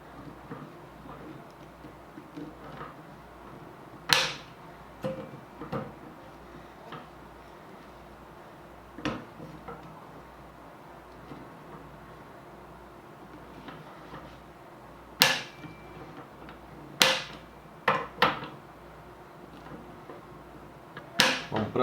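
Sharp metallic clicks from a torque wrench tightening screws on the upper of a Taurus T4 rifle, scattered single and paired clicks over a quiet background, with occasional faint talk.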